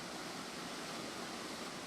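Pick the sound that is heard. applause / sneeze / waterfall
waterfall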